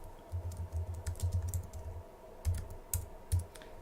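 Fingers tap out text on a computer keyboard while filling in an owner name on a form, a quick run of soft, close clicks followed by a few slower, separate keystrokes.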